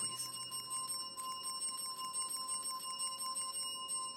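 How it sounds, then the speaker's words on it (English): Repeated service bell rings in the game This Bed We Made, a run of bright metallic dings over a low steady hum, fairly close with no talk. "the person on the other line is not acknowledging that I'm ringing the bell a lot."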